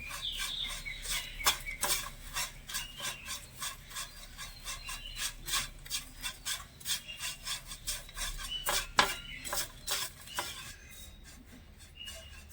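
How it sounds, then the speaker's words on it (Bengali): Lachha semai stirred with milk powder in a pan with the gas turned off, a steady run of rhythmic, faint scraping strokes from the spoon against the pan, one after another with no talking. "এবার আমি গ্যাসের আঁচটা বন্ধ করে ভালো করে গুঁড়ো দুধটা দিয়ে নেড়ে ছেড়ে মিশিয়ে নেবো"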